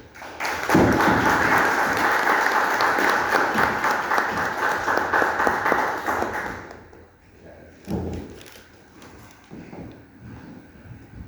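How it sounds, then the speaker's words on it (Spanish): An audience at a lecture hall conference on a painting breaks into loud, dense applause to welcome the lecturer, sustained for several seconds before cutting off, followed by a few scattered thumps and quieter room noise. "Lo recibimos con un fuerte aplauso."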